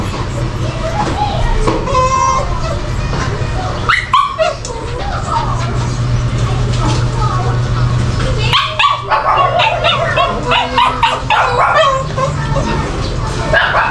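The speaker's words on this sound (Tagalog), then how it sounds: "Ingay yung aso." A dog barks and yips repeatedly nearby, with some whimpering, over a steady background hum and occasional voices.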